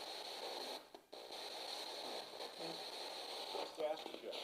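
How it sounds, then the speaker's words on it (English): Faint, steady hiss of radio static with a constant tone running through it, broken by a few short dropouts and crackles. "We're creating white noise and different frequencies, trying to allow them to speak to us"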